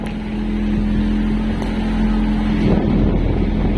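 A large ship passes while out fishing for yellowfin tuna at sea, its engine droning steadily with a low hum, wind buffeting the microphone throughout, growing slightly louder and rougher near the end.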